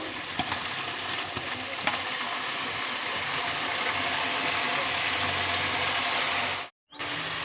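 Potato slices frying in hot oil for homemade chips, a steady close sizzle with faint clinks of a utensil, broken by a brief cut near the end.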